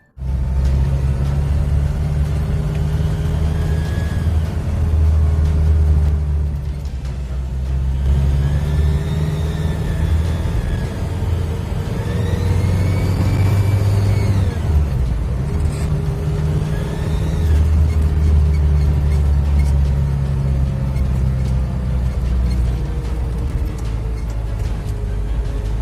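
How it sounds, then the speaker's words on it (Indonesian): A Toyota Blizzard LD21 turbo diesel engine runs steadily with a low rumbling drone and some revving swells, loud and close throughout. "Nih, dengerin deh suara mesin diesel turbonya."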